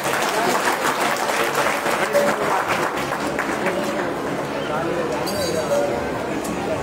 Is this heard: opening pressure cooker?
no